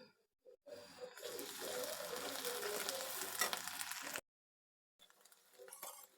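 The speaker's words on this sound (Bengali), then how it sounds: "আদা রসুনটাকে ভালো করে ভেজে নিয়েছি" Ginger garlic paste fries with onions in a pan, a close hiss and sizzle that runs steadily for about three seconds, with utensil clinks at the start and end and brief silent gaps.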